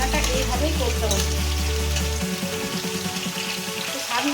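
Potato, onion and paneer curry frying in a pan, a steady close sizzle with a low hum early on, then a lighter crackling fry that continues to the end.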